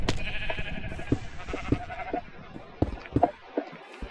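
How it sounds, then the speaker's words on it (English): Sheep bleat repeatedly in a Minecraft game with a lucky block add-on, several short loud calls in quick succession over a few seconds with game sound effects around them. "I got a super mama sheep."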